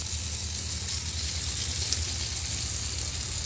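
Ginger, garlic and onion sizzle as they are sautéed in hot oil in a pan, a steady close crackling hiss with a low cooking hum beneath, no voices.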